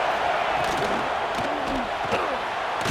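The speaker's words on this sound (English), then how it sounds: "This crowd going to try to make life miserable for these guys." Stadium crowd noise from a college football video game, a loud constant roar of a packed audience with faint rising swells and a few thumps, no clear voices on top.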